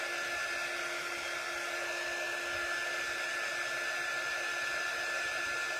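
Hair dryer running steadily to dry paint on a decorative henna pumpkin, a constant close whirring blast that holds unbroken from start to finish with no voices.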